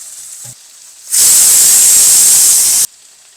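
A pressure cooker venting steam, a loud, harsh, continuous hiss that bursts on abruptly, holds for about two seconds and cuts off sharply, close and alone.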